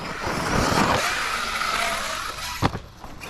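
An Arrma RC truck fitted with a hose clamp mod drives over rough ground, its electric motor whining and rising steadily close by, with a sharp thump near the end as it lands.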